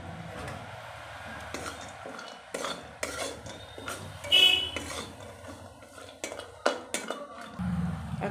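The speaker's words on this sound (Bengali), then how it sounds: "কাজু বাদামটা ভাজতে হবে একটু।" Cashew nuts stirred in a hot pan of oil for fried rice: a low sizzle under clinking and scraping of a utensil against metal, close by, with a brief tonal chirp midway and no voices.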